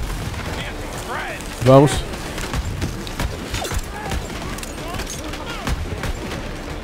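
Rapid gunfire from a freeze weapon in the shooter game Borderlands 3, a dense continuous rattle of shots with a sharper burst near the start, set among game effects while a player briefly speaks.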